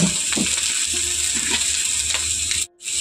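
Roti noodles fry in hot oil in a pan, giving a steady, close sizzling hiss with faint clicks of stirring and a brief drop-out near the end.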